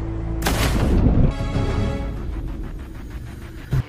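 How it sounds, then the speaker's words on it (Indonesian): Gunfire and heavy booms in an action film shootout aboard a ship, a loud burst of impacts followed by rumbling, crackling reports and a sharp final bang. "Tembak-tembakan pun terjadi saat Bishop sampai di kapal Crane."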